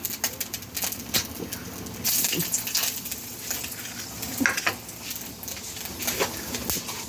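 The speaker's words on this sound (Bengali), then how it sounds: "তেলের মধ্যে দিয়ে দেব শুকনো লঙ্কা" Dried red chillies sizzling in hot oil for a dal, a steady close crackle and hiss with some brief scraping sounds.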